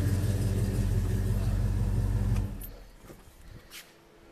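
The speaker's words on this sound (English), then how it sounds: "So let me shut the car off here." A 1969 Dodge Super Bee engine idles with a loud, steady low rumble, then is switched off about halfway through, leaving a quieter settling with faint clicks and a light rattle.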